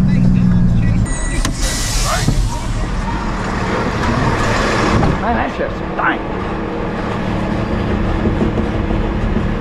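Electric power windows on a garbage truck whirring up in a steady motorized hum, close and fairly loud, with engine rumble and cab noise around them.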